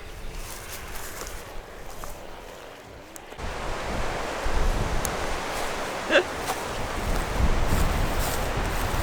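Strong wind blowing outdoors in stormy Portuguese weather, a steady broad roar with gusting surges that build through the clip, loud and continuous with no voices.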